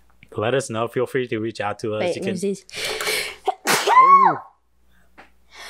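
A single loud sneeze bursts out right after a person finishes speaking, followed by a short breathy after-sound and then quiet.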